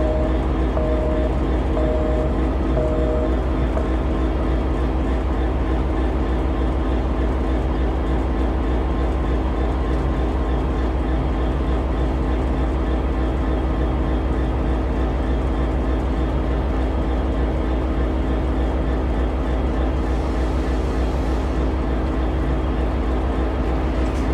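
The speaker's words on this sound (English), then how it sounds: "we see train 710 arriving into the station after making its full 6-hour journey from the Bay Area" Amtrak San Joaquins train 710, led by non-powered control unit 9218, arriving at Bakersfield station. A steady, loud low rumble and mechanical hum carries on throughout, with faint tonal whines layered above.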